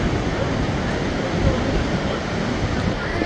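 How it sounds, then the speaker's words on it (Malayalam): Strong wind roars steadily and loudly on a Himalayan valley hike in Uttarakhand, a continuous broadband rush buffeting the microphone with no pauses. "ഇവിടെയാണെങ്കിൽ ഇപ്പോൾ ഒടുക്കത്തെ കാറ്റാണ് കാരണം വെച്ചാൽ നല്ല കാറ്റ്"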